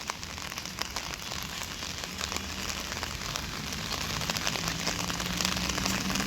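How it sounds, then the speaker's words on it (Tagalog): Heavy rain pours beside the Pasig River in Metro Manila, a loud, continuous hiss of dense drops striking surfaces with no voices. "at lumakas na naman ng ulan mga kababayan"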